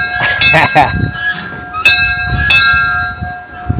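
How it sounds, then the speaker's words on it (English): A bell rung at House of Dun in Montrose, Scotland, gives several loud, ringing strikes with long sustained tones that linger, while people talk nearby. "Well, the bell's rung."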